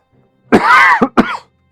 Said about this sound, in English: I'm not going to say sorry all the time when coughing